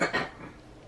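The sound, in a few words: person coughing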